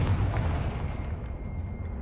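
A Confringo fire spell blasts with a heavy, booming explosion in Hogwarts Legacy, a deep rumbling burst that fills the whole moment and rolls on without pause.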